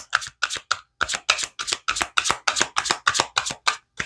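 A tarot deck is shuffled by hand, with about a dozen quick, crisp riffling bursts in a steady rhythm, close up and with no talking.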